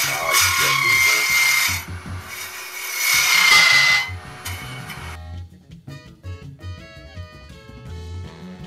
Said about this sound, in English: And turning on the lathe.